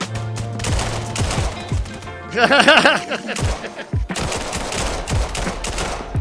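Gunfire in the VR shooter game VAIL: rapid bursts of weapon shots with a brief ringing, pitched flurry in the middle, set among other game effects and a few low thuds.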